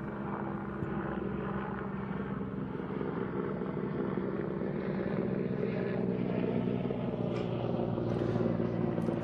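A Czech Air Force Mi-24 Hind attack helicopter flies at NATO Days 2022, giving a continuous, rumbling rotor and turbine drone that swells slightly louder as it goes on.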